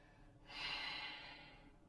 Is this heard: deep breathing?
yes